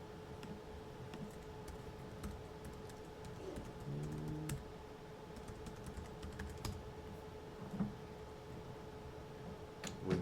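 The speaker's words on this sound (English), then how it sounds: "I'll just type in my email address." Someone types an email address on a computer keyboard, soft key clicks coming in irregular bursts and pauses, close but quiet in a still room.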